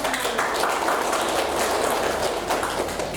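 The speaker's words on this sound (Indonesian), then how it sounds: "Tepuk tangan dong." An audience at a character-education lecture applauds, a steady, dense wash of many hands clapping at once, even in loudness throughout with no talk on top.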